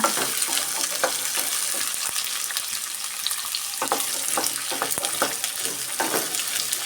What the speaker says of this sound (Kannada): ಈರುಳ್ಳಿ ತೊಕ್ಕು ಮಾಡೋದಕ್ಕೆ ಆಯಿಲಲ್ಲೇ ನಾವು ಫ್ರೈ ಮಾಡ್ಕೊಬೇಕು ಈರುಳ್ಳಿನ